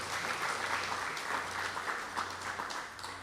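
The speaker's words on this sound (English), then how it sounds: "let's give him a wonderful round of applause for that" An audience applauding at an International Education Day event, a steady, moderately distant patter of many hands clapping that carries through the whole stretch.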